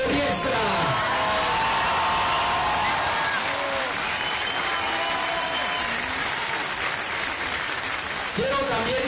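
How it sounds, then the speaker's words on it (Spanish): A large crowd applauds and cheers at an outdoor political campaign rally, sustained clapping with whoops rising through it and a voice breaking in briefly near the start and end. "Les pido un fuerte aplauso para Nadia Navarro y Mario Riestra"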